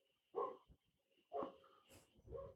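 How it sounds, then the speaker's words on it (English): A dog barks indoors in three short, separated bursts, each voice-like and moderately loud against a quiet room, with a sharper sound right at the end. "I think the dog is barking at our guests."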